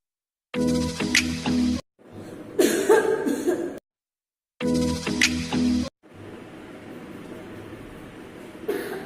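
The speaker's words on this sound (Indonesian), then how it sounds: "Batuk" Exaggerated comic coughing and throat clearing in two loud bursts, each followed by a pause and a rougher, noisier stretch, with a dull background hiss filling the gaps between them.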